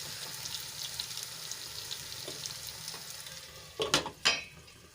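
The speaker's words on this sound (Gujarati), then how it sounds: "આપણે એને ઢાંકીને થોડી વાર માટે તેલમાં સંતળાવા દઈશું" Ridge gourd sautés in oil in a covered pan with a faint, steady sizzle, then a few louder clattering knocks close by near the end.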